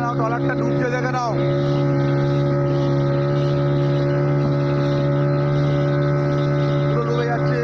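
A fishing trawler's engine at sea near the Digha estuary drones as a steady, loud hum throughout, with brief voices near the start.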